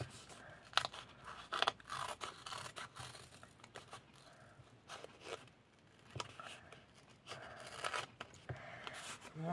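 Close, quiet snips and crunches of scissors cutting paper for scrapbooking, a series of irregular cuts with small rustles between them and no talk.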